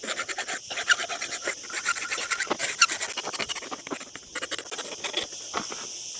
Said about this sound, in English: So I'm just going to gently go over the top of the file and smooth it all off,